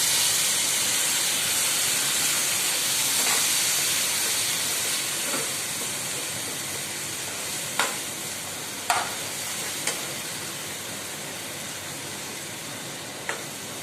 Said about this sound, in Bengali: আমি দিয়ে দেবো হাফ কাপকে 1 কাপের মতন জল।